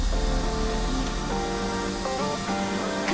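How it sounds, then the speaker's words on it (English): A paint spray gun hisses steadily as car paint is sprayed onto a Honda Civic, a continuous loud, close airy rush without pauses. "I just continued to spray"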